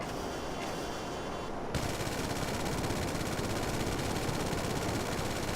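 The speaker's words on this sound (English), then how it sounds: "So we've got normal machine guns." Machine guns on a Pegassi Oppressor MK2 flying bike in GTA 5 fire in a dense, continuous burst that jumps louder partway through and rattles on steadily to the end.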